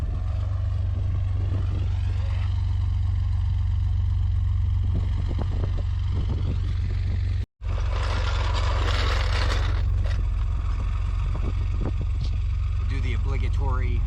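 A Chevrolet ZR2 Blazer's 4.3 engine idles with a steady, low rumble and a slight throaty exhaust note. Someone talks over it throughout, and the sound breaks off briefly midway.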